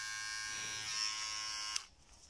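An HTC electric hair clipper runs with a steady, loud, high-pitched motor buzz for most of the clip, then switches off abruptly near the end, leaving quiet.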